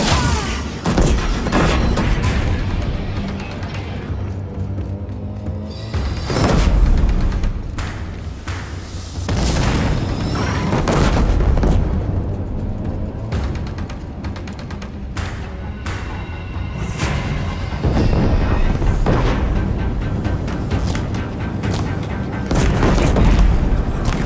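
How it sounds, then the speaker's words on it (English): Deathbringer machines firing explosives in Horizon Zero Dawn Remastered, a steady barrage of heavy booms and thuds rolling one after another over about twenty seconds, loud and close with battle noise between blasts. "If the Death Bringers keep firing, this bridge will go."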